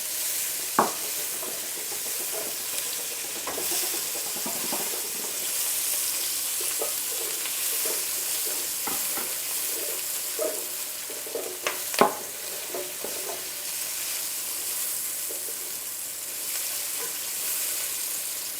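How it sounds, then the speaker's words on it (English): Onions sizzling in chorizo grease in a pan for a carrot soup, a continuous frying hiss broken by occasional stirring clicks and scrapes, close and unaccompanied by speech. "Now let's go in with the onions. Get it sizzling. The grease from the chorizo will give some flavor."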